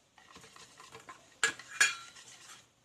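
A spoon stirs masala into yogurt in a bowl, giving soft repeated scraping and clinking that ends in two sharper metallic knocks against the rim, close and alone.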